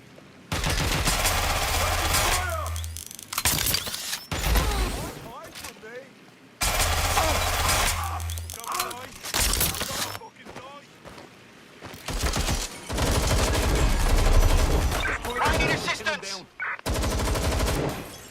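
Gunfire erupts in the Watch Dogs Legion video game, loud repeated bursts of rapid shots and machine-gun fire broken by short pauses, with shouted voices mixed in.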